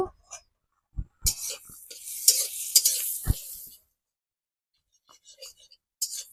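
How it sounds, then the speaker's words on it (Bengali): Turmeric is stirred into an egg curry with poppy seed paste in a pan: intermittent spatula scrapes, then a busier stretch of stirring and frying that drops into near quiet, with a few faint taps at the end. "দিয়ে দেবো একটু হলুদ দিয়ে চলো ভালো করে এটা আমি মিশিয়ে নেব"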